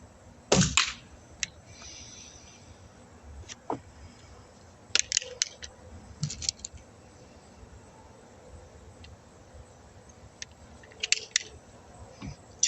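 Umarex Ruger Mark IV pellet pistol fired at a target: a handful of sharp, irregularly spaced snaps and clacks, close and distinct, separated by quiet pauses.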